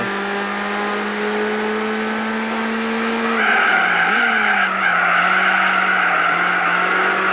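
Loud Mercedes 190E 2 engine in a video game holding a steady whine, then revving higher as tires squeal and skid, tone wavering as the car slides.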